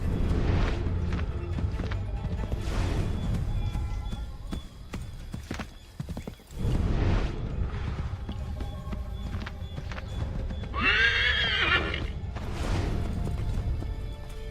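A horse gallops in Assassin's Creed III Remastered: steady, close hoofbeats drum throughout, with a brief lull midway and a short whinny toward the end, all against background game sounds.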